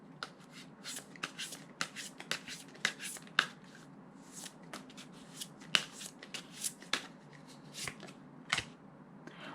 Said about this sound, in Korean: 보조 카드 한번 뽑아 보겠습니다